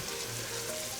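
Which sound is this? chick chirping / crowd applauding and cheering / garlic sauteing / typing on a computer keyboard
garlic sauteing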